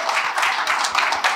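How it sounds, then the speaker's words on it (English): An audience claps for contestants on stage at an English-speaking competition between two student batches, a dense, steady patter of many hands filling the moment without a break. "Clap for us, everyone."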